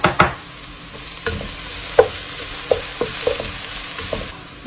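Onion sizzling in a pan over a fire for Moroccan couscous: a continuous bright frying hiss broken by scattered clicks and taps from stirring, fairly loud and close.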